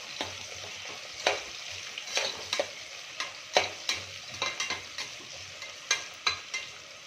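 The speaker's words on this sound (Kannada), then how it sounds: "ಇದನ್ನು ಚೆನ್ನಾಗಿ ಫ್ರೈ ಮಾಡ್ಕೊಳ್ಳೋಣ. ಇವಾಗ ಚೆನ್ನಾಗಿ ಗೋಲ್ಡನ್ ಕಲರ್ ಬರೋವರೆಗೂ ಫ್ರೈ ಮಾಡ್ಕೊಳ್ಳೋಣ." Onion frying in a pan until golden for Davanagere-style tomato bath: a steady close sizzle broken by sharp, repeated spatula scrapes and stirs every second or so, with no talking.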